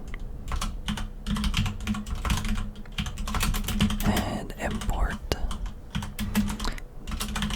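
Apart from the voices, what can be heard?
typing on a custom high-quality keyboard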